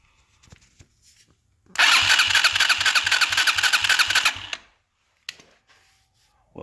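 Chinese four-wheeler ATV engine cranked with the choke on, a loud whirring starter run of about three seconds with rhythmic pulses that stops without catching, followed by quiet clicks.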